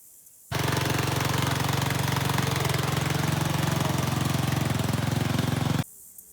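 A 12.5 Briggs engine on a riding mower fires up abruptly and runs at a steady, loud, close drone with a rapid knocking pulse, then cuts off sharply after about five seconds.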